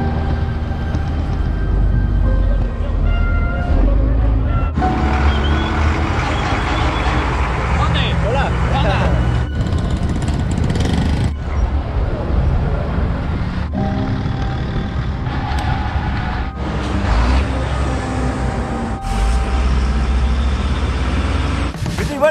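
Guatemalan chicken buses and other heavy traffic rumble past nearby, with loud engine roar, hissing brakes and passing whooshes rising and falling, and talk at times over the din.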